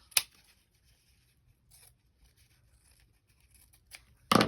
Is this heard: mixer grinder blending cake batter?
no